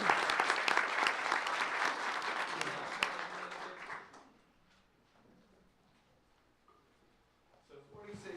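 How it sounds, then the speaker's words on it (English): A crowd at a board meeting claps loudly for about four seconds, then the applause fades out to quiet room noise with a few scattered sounds. "Let's give her a round of applause."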